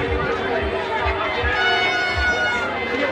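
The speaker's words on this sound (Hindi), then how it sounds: "यहाँ देखो बहुत सारी भीड़ लगी हुई है" Dense crowd chatter fills a busy Mahashivratri fair at a ghat with shops, a steady wash of many overlapping voices and a soft thumping beat underneath.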